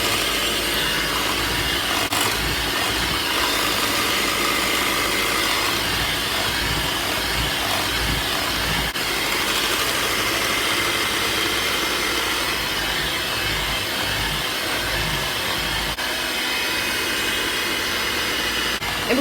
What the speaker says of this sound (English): we're going to mix everything until they're well combined